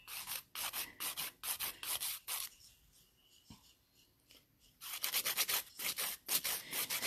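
Fingernails being filed into shape over nail forms, quick repeated rasping strokes in bursts, a pause with faint handling noise in the middle, then rapid filing again, close and fairly quiet.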